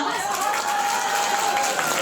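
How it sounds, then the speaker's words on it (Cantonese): An audience claps steadily for about two seconds, a dense, even wash of applause without breaks. "贊成拍手"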